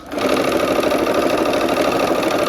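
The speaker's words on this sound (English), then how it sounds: "when you're sewing these, you always want to sew the white to the red" A sewing machine stitches quilt block pieces for a Christmas block-of-the-month quilt, running as a loud, steady, close-up mechanical whir with a rapid needle rhythm throughout.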